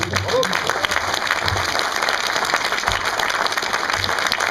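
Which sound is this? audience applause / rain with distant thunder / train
audience applause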